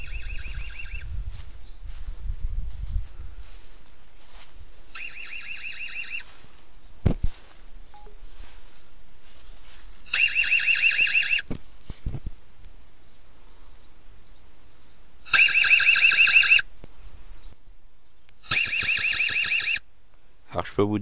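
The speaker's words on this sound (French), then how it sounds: "je vais vous faire écouter l'alarme lorsque elle a détecté une personne" Ezviz BC1C security camera sounding its alarm after detecting a person: loud, piercing electronic siren bursts of about a second each, repeated five times with quiet gaps between, the later bursts strongest.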